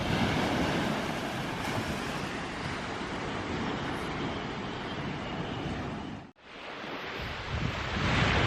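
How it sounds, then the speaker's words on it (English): Steady surf and breaking waves wash along a beach at Laganas on Zante, Greece, a continuous broad roar mixed with wind buffeting the microphone and a brief dip near the end. "Walking along the beach, guys."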